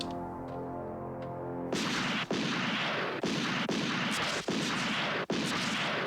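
Gunfire in a Yu Yu Hakusho anime episode: a series of five loud, sharp shots at roughly regular intervals, each followed by a sustained roar, preceded by a quieter tonal stretch.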